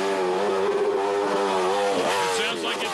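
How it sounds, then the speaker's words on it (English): A drag racing motorcycle at a NAHA drag meet in Columbus, Montana, held hard on its rev limiter: a loud, steady high-pitched engine drone that wavers and stutters as the limiter cuts in, close and continuous throughout. "It sounds like it's stumbled, and that's because he's got it up on that rev limiter."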